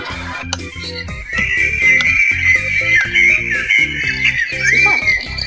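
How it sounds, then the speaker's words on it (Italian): A sound machine plays a recorded birdsong track: continuous warbling, trilling chirps and whistles, fairly loud and close, over a low humming, tonal background. "Ti risvegli la mattina con questo cinguettio."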